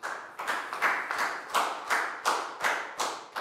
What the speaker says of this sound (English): a big round of applause for Lacau